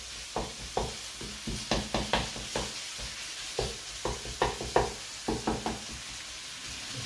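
Meat fries in a pan on the stove while being stirred, a steady soft sizzle broken by repeated close scraping clicks of a spoon against the pan, with no talking.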